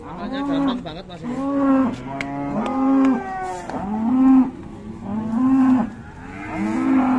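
Cattle at a livestock market moo loudly and repeatedly, about six long, deep calls in a steady rhythm, close by and with no talk over them.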